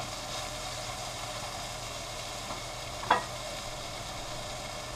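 Onions and vegetables for a caramelized onion tortilla are stirred around a frying pan, giving a steady low sizzle with faint scraping and one brief clatter near the end, with no voices.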